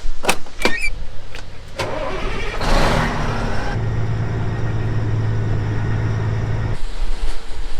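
A farm pickup truck's engine idles steadily and loudly up close while being repositioned beside a grain bin, a low steady hum with a brief revving rise partway through and a few clunks and knocks at the start.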